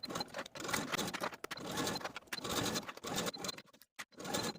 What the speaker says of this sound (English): Now we're going to go to our sewing machine and connect these waistbands with a 5/8 inch seam allowance all the way around